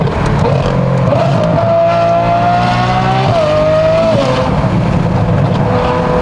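A straight-piped Ferrari 812 V12 engine revving while driving at a cars and coffee meet, loud and close from inside the car, with a rising and falling howl over a steady rumble and no talk.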